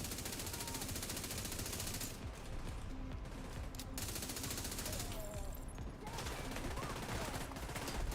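Rapid automatic gunfire from The Division 2 video game rattles in dense, sustained bursts, with brief lulls before the shooting resumes, loud and continuous throughout.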